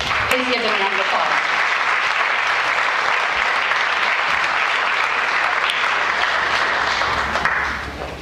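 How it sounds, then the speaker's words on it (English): Audience applause at an Academic Decathlon awards ceremony, a loud sustained burst of clapping from a crowd that fades out at the end. "Please give them a round of applause."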